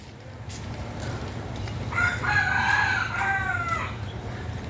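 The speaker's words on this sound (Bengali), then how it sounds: "মোরগের ডাক" A rooster crows once in a rural village beside a pond choked with water hyacinth, a drawn-out, moderately distant call rising over a steady outdoor hiss.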